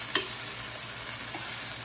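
Chicken pieces in oil in a skillet, a short clack as they are flipped followed by a soft, steady sizzle, quiet and close.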